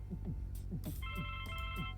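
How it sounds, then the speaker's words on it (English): A telephone rings in the point-and-click adventure game The Blackwell Legacy, a steady electronic ring over a low droning background and soft rhythmic game sounds. "That's the telephone again."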